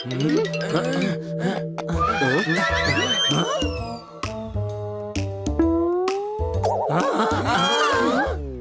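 A cartoon horse whinnies in a bright, wavering call, woven among other tonal cartoon sound effects that come and go throughout.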